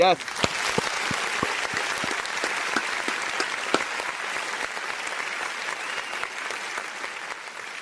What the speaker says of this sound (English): Where the hell is my applause?